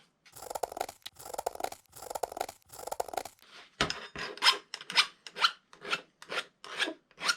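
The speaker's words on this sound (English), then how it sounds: "the best way to do that is with a deburring tool and a file" A hand file rasps across the ends of metal cable clamps to deburr them, close and distinct. Four long, even strokes are followed by a quicker series of about eight shorter scraping strokes.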